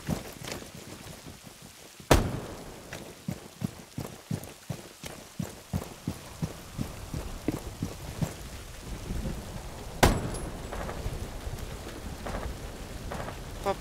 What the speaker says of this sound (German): Boah, pfui, hier regnet's ja.